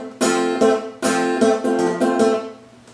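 Guitar plays the melody of a blues tune on its top three strings: a short run of about eight plucked, ringing notes in a loose rhythm, heard alone with no talk.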